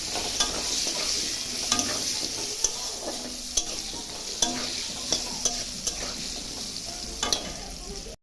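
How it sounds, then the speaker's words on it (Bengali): Potatoes fry in a pan with salt and turmeric, a steady sizzle broken by regular scraping and tapping as they are stirred, close up and with no one talking. "এখন ভালো করে আলুটা ভাজবো।"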